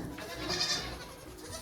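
Baby goats bleat at a farm alongside their mothers, one faint wavering cry rising from a noisy background of scuffling and barn ambience.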